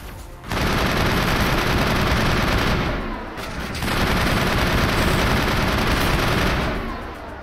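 Dense, sustained gunfire from the Mass Effect video game, loud and continuous for most of the stretch with a brief dip in the middle, no talking over it.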